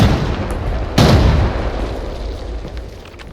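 A single loud grenade blast in the video game Arena Breakout: Infinite bursts out about a second in, then a rumbling echo slowly fades beneath steady background noise.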